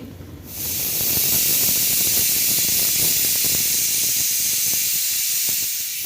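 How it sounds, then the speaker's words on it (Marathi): A pressure cooker of ash gourd steams on the stove, letting out a loud, steady, close hiss of escaping steam that starts abruptly and holds unbroken to the end, with faint kitchen clatter beneath. "कुकरमध्ये आपल्याला याच्या तीन ते चार सिट्ट्या काढून घ्यायच्या आहे"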